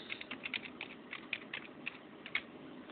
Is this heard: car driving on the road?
no